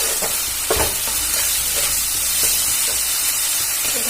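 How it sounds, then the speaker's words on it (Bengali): Spices and green chillies fry hard in hot oil for a Bengali fish-head and potato ghonto, a loud, continuous dense sizzle with brief stirring scrapes, close and alone. "খুব ভালো করে ভেজে নেবে"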